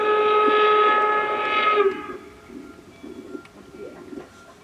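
A long steam whistle from the locomotive Jupiter at a road crossing at Golden Spike National Historic Park sounds loudly for about two seconds, then cuts off, leaving faint chuffing and rumbling rail noise behind.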